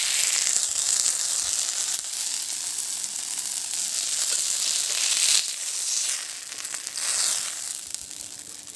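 Fish fries in sesame oil, cooked the primitive way: a loud, steady sizzle close up that keeps going throughout, with a few softer scraping and stirring moments and no talking.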